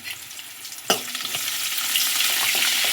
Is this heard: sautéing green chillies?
yes